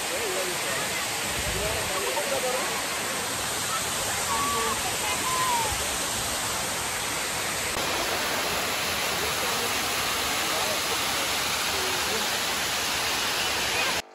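Water pours steadily over the Upper Manair dam waterfall in a dense, continuous roar that fills the whole clip, with a few faint voices and calls only just audible beneath it.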